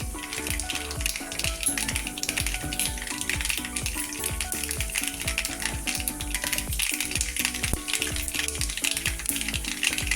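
Mustard seeds in hot oil, tempered for a citron lime pickle, pop and splutter in a dense, fast crackle of sharp little bursts that continue without a break and stay close and lively.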